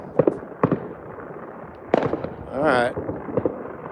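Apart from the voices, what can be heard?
fireworks going off at midnight on New Year's Eve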